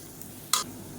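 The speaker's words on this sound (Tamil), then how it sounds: "இப்போ இது எல்லாத்தையுமே லேசாக எண்ணெயில் வதக்கி விட்டுக்கிறோம்" Spices and coriander powder sautéing in oil in a pan, a faint steady sizzle broken by a couple of brief scraping stir strokes.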